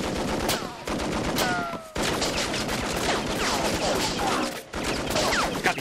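Machine guns fire in a war film battle scene as dense, continuous bursts of rapid shots, loud and close, with brief gaps between volleys and faint whistling sounds in the mix.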